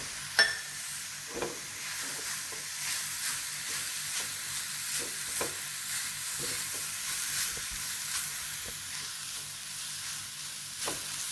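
Grated coconut and onions fry in a pan with a soft, steady sizzle, broken by occasional light taps and scrapes of a spoon against the pan.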